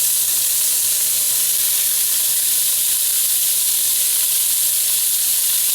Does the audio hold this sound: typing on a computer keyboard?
no